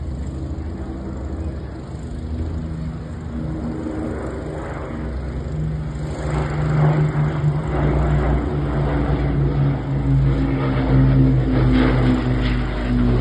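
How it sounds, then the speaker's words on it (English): An 80-year-old Avro Lancaster propeller bomber flies past at an RAF Waddington air show, its deep piston-engine drone steady and loud, swelling louder in the second half as it draws nearer. "the Lancaster, ladies and gentlemen, is an 80-year-old aircraft and is still flying perfect today"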